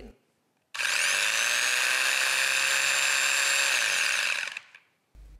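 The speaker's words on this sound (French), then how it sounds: "je branche le tout, et maintenant, vous pouvez voir le mouvement de ponçage" A Festool sander with a linear back-and-forth sanding motion starts up after a second of quiet and runs as a loud, close, high-pitched whine for about four seconds, then winds down and stops.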